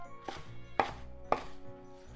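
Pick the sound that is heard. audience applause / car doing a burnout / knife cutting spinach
knife cutting spinach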